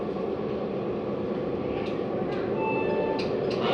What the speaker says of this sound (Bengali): ওই যে চলে এসছে দেখো, এই যে ট্রেন উঠবে আমাদের উপরে দেখো।